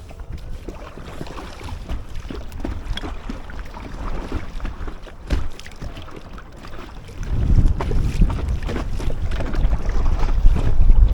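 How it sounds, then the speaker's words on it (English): Hiqmar e-Fin electric motor pushing an Aquaglide Chelan inflatable kayak on Ladybower Reservoir, a steady hum under wind and lapping water that grows noticeably louder and fuller over the last few seconds, with no talking. "Let's turn the motor back on."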